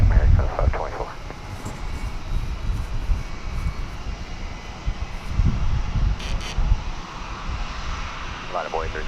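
An American Airlines jet rumbles as it takes off from runway 36 right at Dallas Fort Worth airport. The engine roar is heard from a distance, steady and sustained, with a brief radio transmission partway through.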